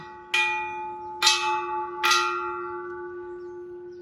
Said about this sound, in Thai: มาถึงแล้วเราก็จะตีระฆังนะคะ